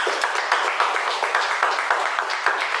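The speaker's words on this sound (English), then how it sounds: "So we'll give a round of applause for them." A round of applause at a pre-charter club meeting: many hands clapping together in a dense, even patter that holds steady throughout.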